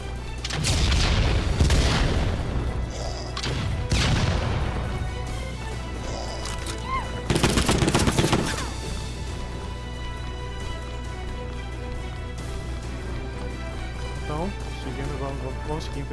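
A few sharp, booming gunshots ring out from a weapon in the video game Hentai vs. Evil, spaced apart, over a steady electronic hum and game ambience.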